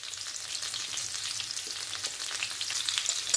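Chopped onion and hot pepper fry in melted butter in a pan for a Turkish breakfast, a steady close hiss and crackle of sizzling with no talking.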